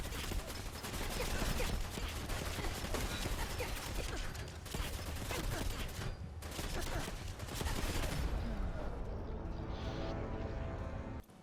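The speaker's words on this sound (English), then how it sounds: "when multiple machine guns are hitting me at once" Sustained machine gun fire in the video game Fallout 4, with several guns hammering continuously and densely for the whole stretch. The fire is loud and close, with only a brief easing near the end.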